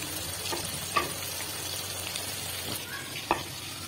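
Marinated chicken for chicken manchurian fries in a kadai over a medium flame, giving a soft, even sizzling hiss with a couple of faint clicks and stirs.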